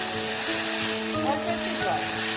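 Tomato with salt sizzling and frying in a pan for a Bengali posto dish, a steady close hiss with faint stirring scrapes, no talk.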